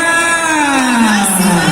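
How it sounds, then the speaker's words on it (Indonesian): Audience at a film showcase event cheering and whooping loudly for actress Luna Maya, a dense crowd roar with a sliding shouted tone, continuous and close. "Boleh minta tepuk tangan untuk kakak Luna Maya"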